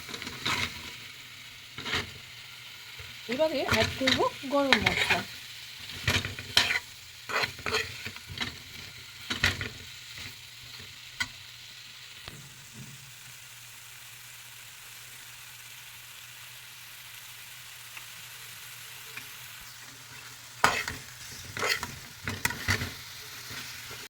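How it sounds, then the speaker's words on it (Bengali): Potato and cauliflower curry is stirred with spices in a pan over a low gas flame, with bursts of spatula scraping and clattering that alternate with quieter stretches of soft sizzling. No one speaks. "ভালো করে মশলার সাথে মিশিয়ে দিচ্ছি, আর গ্যাসটাকে করে দিচ্ছি লো ফ্লেমে।"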